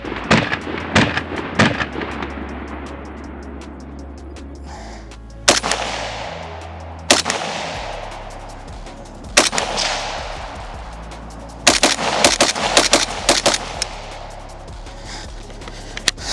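Sharp, loud gunshots from a Plastikoff V3 plastic AK rifle crack out as scattered single shots, then a quick cluster of rapid shots, each followed by a short echoing decay, with no talking.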